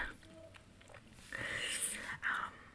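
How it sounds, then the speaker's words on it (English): Soft whispering in bed mixed with gum chewing, close and intimate: quiet mouth clicks and smacks with breathy whispered speech that swells louder in the second half. "we're just gonna do a gum chewing whisper ramble in my bed"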